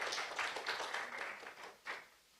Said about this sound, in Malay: another round of applause. Tepuk tangan untuk panelis pertama.